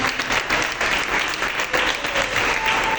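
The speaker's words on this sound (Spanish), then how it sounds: "debe ser fuerte aplauso al Señor" Loud, continuous congregation applause in a church, dense and even without pause, filling the space.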